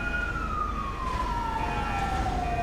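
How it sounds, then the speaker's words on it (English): A wailing ambulance siren in GTA V sweeps steadily downward in pitch over a constant road-like rumble, loud and sustained throughout with no talk over it. "The ambulance has arrived"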